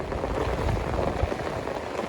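Dense, steady rush of monsoon rain falling nearby in a Punjab village, a constant hissing patter with no pauses.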